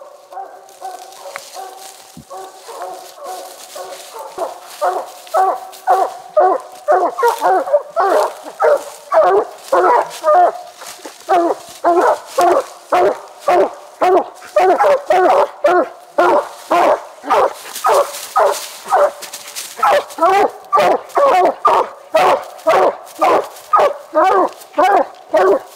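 Coon hunting dogs baying at a treed raccoon in the woods, a long run of loud, rhythmic, repeated barks and bawls, starting softer with whimpering yips and building to steady, near barking.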